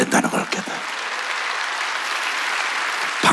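Church congregation applauding during a Wednesday worship service, loud dense clapping that starts with a few sharp claps and holds steady for about three seconds before stopping abruptly, with brief talk at the edges.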